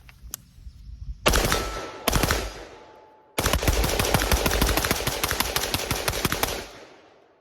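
Daniel Defense DDM4V7 rifle firing with Lancer magazines, a few close single shots followed by a long rapid string of loud cracking rounds fired in quick succession outdoors.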